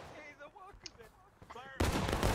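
A musket volley in a Civil War video game erupts as one loud, sudden crackling blast near the end, right after someone talks briefly in the foreground.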